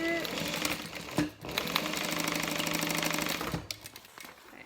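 A sewing machine runs a back stitch on a fabric bag, a steady close rapid mechanical whirring broken by short pauses and clunks at the start and end.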